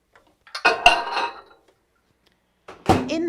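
Glass jam jars handled in a kitchen, with two separate bursts of clinking and knocking as they are picked up and set down, close and fairly loud, with silence in between.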